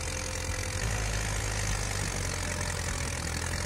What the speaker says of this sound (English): let's witness the MTZ 82 plus 2 trailer struggling through the mud